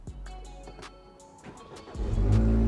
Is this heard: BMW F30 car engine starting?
yes